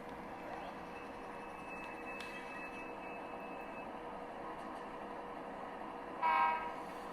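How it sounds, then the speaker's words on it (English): A model train runs with a steady, even rumble, and a short, loud horn-like blast sounds near the end. "now we're going to stop our train"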